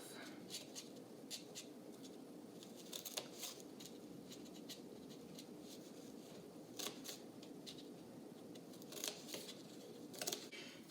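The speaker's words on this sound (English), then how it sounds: "after you have cut the tabs on the cardboard" Scissors snip tabs into cardboard, giving sharp, irregular cuts and crunches spread over a quiet, steady background, close by.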